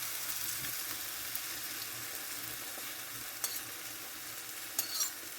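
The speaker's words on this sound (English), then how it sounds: "I'm just going to add the egg mixture in." A frittata's egg mixture meets a hot frying pan, giving a soft, steady sizzle with a couple of brief sharp clinks or stirring taps, quiet and with no voices.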